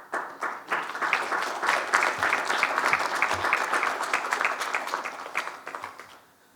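A room full of workshop attendees applauds after a presentation, a dense wash of clapping that builds quickly, holds steady, then tapers off near the end.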